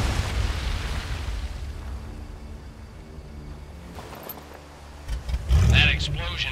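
An explosion in the World War II virtual reality shooter Medal of Honor: Above and Beyond, heard as a deep rumbling blast that swells and decays under game dialogue, followed by a louder burst near the end.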